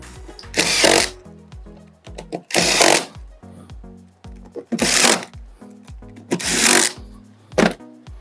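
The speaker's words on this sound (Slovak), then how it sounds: "Na zoskrutkovanie použijem skrutky 4x35 drevo skrutky." A cordless power drill drives 4x35 wood screws into wood on a bench drill base extension, in four long whining bursts and one shorter one, each winding down with a clatter between runs.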